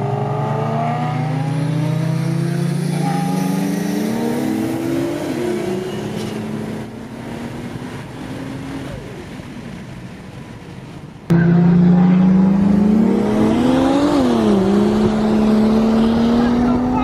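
A 630HP turbocharged Ford Falcon race car accelerates at a morning race event, its loud engine note rising through the revs, dropping at a gear change and then climbing hard again, close and dominant.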